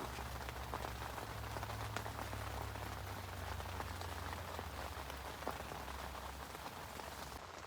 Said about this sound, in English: I'm just going to lay back and listen to the rain hitting the tent, because I love that.